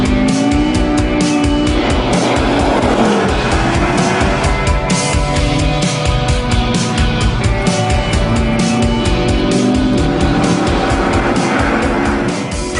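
A McLaren road car accelerates hard on a slippery runway, its engine roaring loud and close and climbing through the revs while the tyres squeal and skid throughout.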